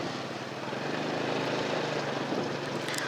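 A Honda Supra Fit motorcycle engine runs steadily while being ridden, a continuous broad droning hum with wind rush, loud and close throughout without pauses.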